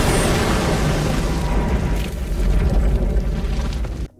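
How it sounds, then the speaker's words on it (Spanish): A small demolition explosion in a film scene, heard as a loud, sustained roaring blast that fills the whole span before cutting off abruptly at the end. "anunciando que habrá una pequeña explosión, demostrando el potencial de la demolición"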